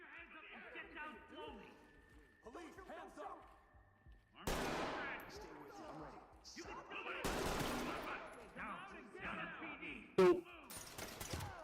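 In the tactical shooter Ready or Not, loud bursts of rapid gunfire break out twice, followed by a sharp single crack. People talk over the top of the firing, and the shots sound fairly close.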